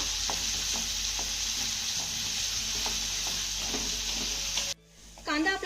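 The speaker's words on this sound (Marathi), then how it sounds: "आता हा घातलेला कांदा चांगला मौसूत होईपर्यंत परतून घेऊया" Chopped onion sautéing with cumin seeds in hot oil, a close, continuous sizzle with faint rhythmic stirring scrapes, breaking off abruptly near the end as other sounds come in.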